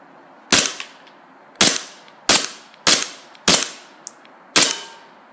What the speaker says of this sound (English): so first we're going to shoot at the dinosaur